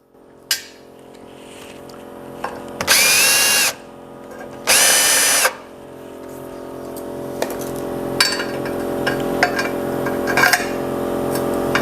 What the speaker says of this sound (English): a die grinder with one of these tungsten carbide bits works very well for cleaning that out